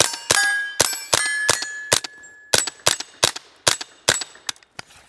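Rapid .22 LR shots from a CMMG Banshee pistol fired at a 100-yard target, about a dozen sharp, loud reports in quick succession with ringing metallic pings from steel in between, no talk.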